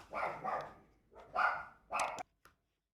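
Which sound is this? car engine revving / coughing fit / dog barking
dog barking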